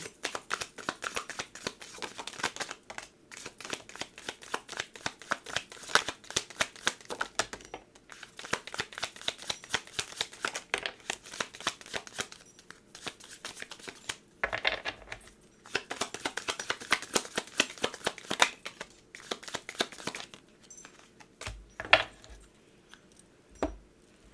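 Oracle message cards are shuffled in hand, a long run of soft rapid riffling and flicking with brief pauses, close and gentle.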